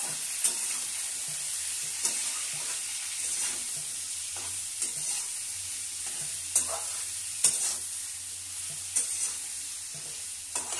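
Diced papaya and potato fry and get stirred in a pan for khichuri, a steady sizzle broken by regular scraping strokes of the spoon, close and alone with no talk.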